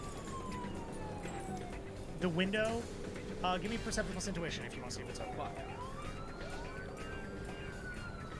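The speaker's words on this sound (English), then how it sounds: "the siren at this point recedes into the distance" A police car siren wails and sweeps in pitch, fading as it recedes into the distance through city street noise, with voices talking over it.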